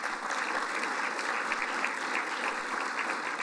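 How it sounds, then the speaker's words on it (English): An audience at a city's State of the City address claps steadily and evenly for several seconds, a dense wash of hands with no voices standing out. "Let's give them a round of applause."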